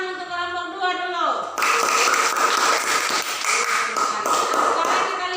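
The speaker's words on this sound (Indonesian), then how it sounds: "tepuk tangan untuk kelompok 2 dulu" A classroom of students claps for a group after a short sung or spoken passage, the clapping breaking in abruptly and continuing loud and uneven, mixed with tapping.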